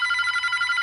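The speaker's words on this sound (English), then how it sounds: "the phone is ringing" In the Airplane 2 video game, a telephone rings with a loud, steady electronic trill pulsing rapidly, close and alone with nothing else heard.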